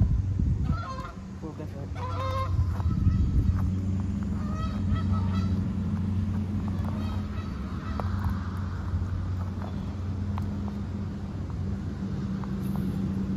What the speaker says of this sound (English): it was just a goose